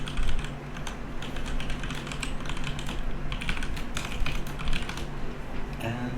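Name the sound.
typing login details on a computer keyboard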